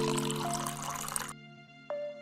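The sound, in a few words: water poured into a bowl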